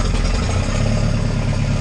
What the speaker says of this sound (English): We're going to start up the 551 forklift here.